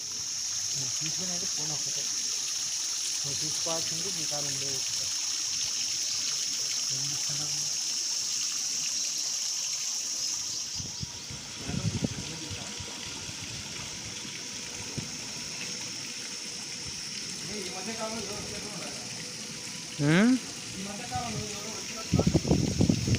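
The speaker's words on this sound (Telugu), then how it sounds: "పైనుంచి వాటర్ ఇట్లా వచ్చి ఇలా కోనేరులో పడుతూ ఉంటాయి" Continuous rushing water from a waterfall splashing into a temple pond at Mallela, Kadapa, fills the clip, with a steady hiss, while a voice speaks over it at intervals.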